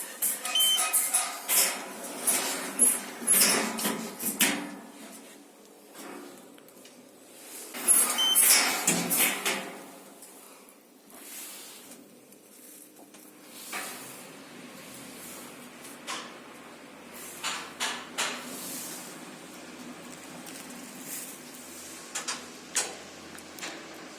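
Prototype Schindler 3300 elevator doors slide open and shut with soft rumbling, clicks and knocks, loudest in the first half, followed by quieter mechanical ticking and faint hum.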